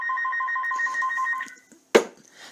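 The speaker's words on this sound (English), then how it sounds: "There's my phone." A telephone rings with steady repeated electronic tones for about a second and a half, then stops, followed by a sharp bump.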